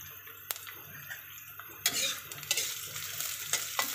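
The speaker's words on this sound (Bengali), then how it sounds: "আমি পেঁয়াজ রসুন দিয়ে দিলাম পেঁয়াজ রসুনগুলো একটু ভাজা করব" Onion and garlic frying in a pan, a soft continuous sizzle with occasional sharp clinks and scrapes of a utensil stirring against the pan.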